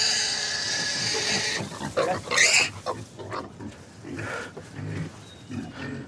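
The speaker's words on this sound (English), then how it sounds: "that's a very healthy pig making a fairly standard pig noise" A healthy pig on a farm in the Green Valley oinks and grunts in a few rough bursts close by, with someone talking over and between the snorts.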